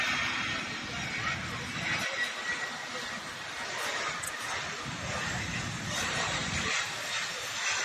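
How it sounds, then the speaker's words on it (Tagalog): A fixed-wing airplane approaches overhead as a broad, rumbling engine roar that stays fairly steady, with a distant hiss layered over a low drone. "Malapit na ang eroplano."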